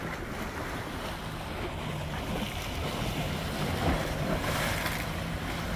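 Ocean waves wash steadily beside docked cruise ships at night, a continuous broad rush of surf mixed with gusty wind noise on the microphone and no talking.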